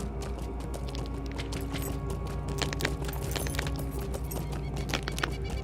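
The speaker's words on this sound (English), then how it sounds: "Do you guys hear the ice under my feet?" A giant goat mount walking across the frozen lake ice in the online game LOTRO, its hooves making a steady run of crisp clopping, crunching steps over a constant background ambience, with no talking.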